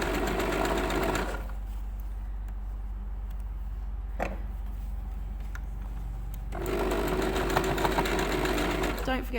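Sewing machine stitching straps, running in a fast whirring burst at the start, pausing for a quieter stretch, then whirring again near the end.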